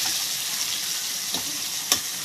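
Tomatoes, green capsicum and green chillies fry in oil with a steady, close hiss, broken by a couple of brief louder pops or stirs near the end.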